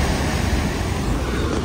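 Strong sea waves on the Konkan coast near Malvan, a loud continuous roar of surf with wind buffeting the microphone.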